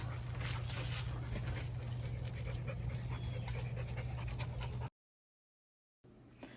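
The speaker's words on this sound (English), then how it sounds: "my dog gonna be acting crazy and you can hear him in the background" A dog pants rapidly and rhythmically nearby with faint whimpers, the noise continuing steadily before briefly cutting out.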